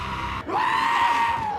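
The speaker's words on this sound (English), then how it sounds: "besides the screaming goats of course." A goat lets out a loud, human-like scream from a film, a brief break followed by a long sustained wail that slowly trails off.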